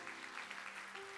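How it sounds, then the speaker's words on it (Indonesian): Brief, faint clapping from a church congregation during a sermon, heard alongside a held musical tone in the background. "Kasih tepuk tangan buat Tuhan kita."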